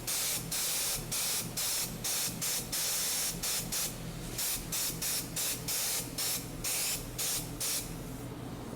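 Powder coating spray gun blasting pliers in a home powder coat setup, a steady hiss cut into short repeated bursts of spray with a constant hum beneath.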